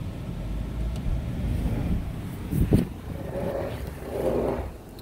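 A Jeep Wrangler JL on KO2 tires revs on a steep, snowy hill while its tires lose traction. The engine holds a steady drone, then swells into two louder surges, with no talking.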